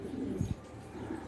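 Pigeons from Damascus coo in a loft. A single soft, low coo sounds briefly, fairly near, against quiet background noise, with no one speaking.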